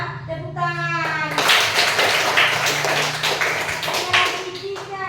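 Children in a classroom clap their hands in a lively burst of several seconds, with an adult voice speaking just before and after the clapping.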